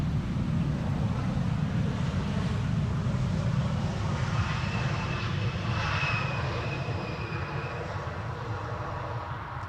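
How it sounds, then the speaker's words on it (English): A KLM airliner at Amsterdam Schiphol roars steadily at close range, its engines producing a loud broadband rumble with a thin whine rising over it midway, blended with wind noise and no voices. "this airplane is operating now for KLM"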